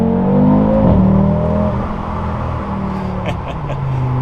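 An Audi RS3 five-cylinder exhaust in RS performance mode revs with a loud, throaty drone, its pitch swelling and dipping while the car rolls along.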